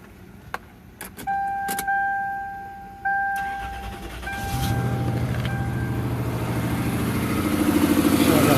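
In a 1998 Toyota 4Runner, a few clicks and a chiming warning tone come first. The starter cranks, and the engine catches into a rough, misfiring idle that grows steadily louder.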